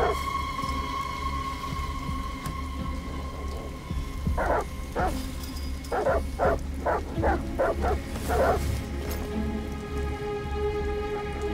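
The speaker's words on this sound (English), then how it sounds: "Goddamn dogs. What the fuck are they barking at?" Dogs bark in a rapid series of loud calls against steady rain and a low rumble, a rainy scene from the video game Detroit: Become Human.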